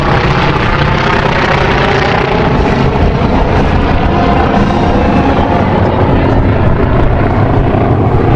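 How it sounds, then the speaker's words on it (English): T-28 warbird planes with big radial engines flying in formation at an air show, a loud, continuous, dense engine roar and drone filling the whole stretch with no break. "Put together older aircraft with big old radial engines, you get a wonderful sound and you get an amazing display."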